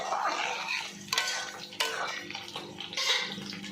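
A spoon stirs mustard mutton curry in a pot of water over a lowered gas flame, a steady wet scraping and sloshing with a few sharper clinks against the pot, close and moderately loud, without any talking.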